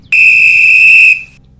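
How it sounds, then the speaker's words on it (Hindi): A loud, shrill police whistle blast rings out as an audio drama sound effect, one steady sustained tone held for about a second before cutting off with a short fading tail. "एक जबरदस्त सीटी की आवाज ने उसे हड़बड़ा दिया"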